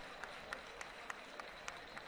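Steady applause from a stadium crowd at a Nigerian football match during a substitution, with scattered louder claps, a continuous wash of clapping heard at a distance.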